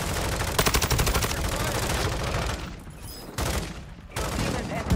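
Sustained gunfire and airstrike blasts in Call of Duty Warzone, a dense rapid fusillade with heavy low booms that barely lets up, briefly dipping before resuming loudly.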